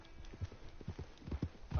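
Horse hooves clip-clop in uneven steps across the game world of Red Dead Online, the hoofbeats close and steady, with a voice talking over them.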